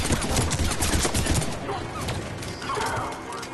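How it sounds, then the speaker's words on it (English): A cluster bomb detonates in the video game Mass Effect 3 on Mars, set off as a burst of rapid, crackling blasts, loud and close at first, then trailing off into softer combat noise. "I'm gonna use a cluster bomb right now"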